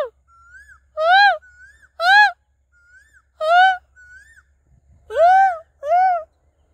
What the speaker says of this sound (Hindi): कोयल बोल रही भाई